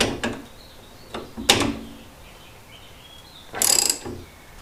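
Coilover bolts on a car being tightened by hand, a few separate ratcheting clicks and metallic bursts close by against a quiet background, with one louder burst late on; no one speaks.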